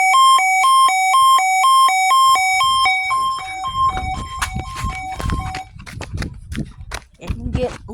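An outdoor warning siren sounds a loud, steady alternating two-tone wail during a test. It fades into wind and outdoor rumble partway through, and brief bursts of noise follow.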